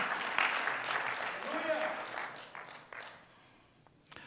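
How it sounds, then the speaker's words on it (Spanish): Congregation applause of praise during a church sermon: a swell of crowd clapping mixed with voices and cheering that fades over about four seconds, leaving only scattered claps. "¿Puedes darle un aplauso de alabanza a Él?"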